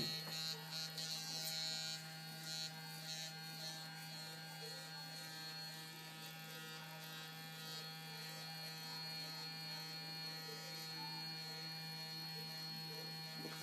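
A Proglide Styler electric beard trimmer runs steadily, its close, even buzz and hum holding without a break throughout while it trims a beard.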